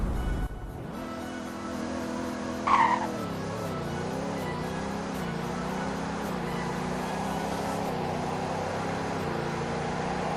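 Video-game car in Roblox Greenville accelerating from 0 to 100 and then braking, its engine note rising and settling steadily over ten seconds, with a short tire squeal around the braking point and no talking.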